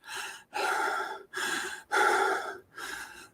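Slow, deep breathing in and out during meditation: five close, audible breaths in a steady rhythm, each a soft airy rush separated by short pauses.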